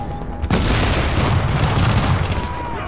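Assault rifle and LMG fire in a shooter video game, a sudden loud burst of sustained automatic gunfire with booming reports, continuous and close for the rest of the moment.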